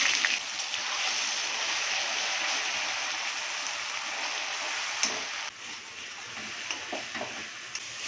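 Onion paste sizzles as it fries in a pan, a steady bright crackling hiss that holds evenly, with a few small clicks and a slight drop near the end.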